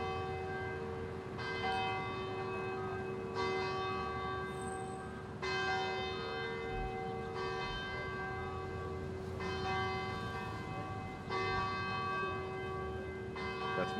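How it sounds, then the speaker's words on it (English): Church bells ring out in slow, repeated peals at a Veterans Day ceremony in Amherst, each strike leaving a long resonant hum that overlaps the next, loud and steady with no talking. "after we hear our last couple bells."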